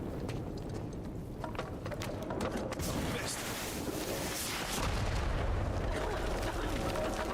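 Explosions and gunfire boom and crackle through a dense, continuous wall of noise in the video game Uncharted 4, loud and sustained throughout, with a heavier surge near the end.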